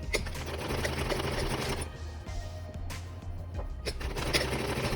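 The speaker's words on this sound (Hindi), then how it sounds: "अब एक सिलाई और एकदम बाहर की तरफ लगाएंगे फिनिशिंग के लिए।" A sewing machine runs steadily, stitching a finishing seam along the outer edge of slippery fabric as part of a sleeve made from an old face mask, with a brief slowdown midway before it picks up again.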